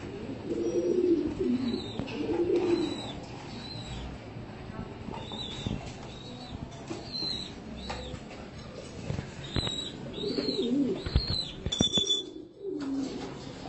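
Pigeons coo in low, repeated bursts as they come back for food at feeding time during training, with soft chirps mixed in and a steady close-up murmur throughout.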